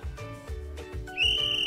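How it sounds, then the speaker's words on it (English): A high, steady whistle tone sounds out clearly for about half a second, used in a lesson on pitch and loudness, following a brief stretch of soft harmonic background sound. "a whistle."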